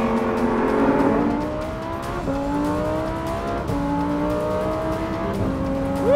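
A Lamborghini Huracan STO accelerates hard on a race track, its engine rising in pitch through several gears with abrupt, sharp upshifts every second or so, loud and close with no talk.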